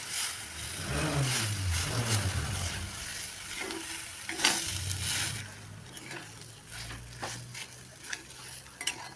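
Mashed boiled potato and fried peanuts are stirred in a frying pan, a close scraping stir over a soft sizzle with occasional clinks of utensil on pan.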